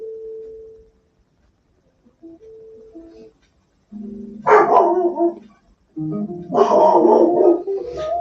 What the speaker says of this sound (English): Forgive that dog. He's doing his job.